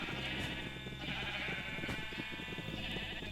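Blocky sheep in a modded Minecraft Nether survival game bleat repeatedly over a constant background hum, with several short, fairly loud calls spread across the stretch.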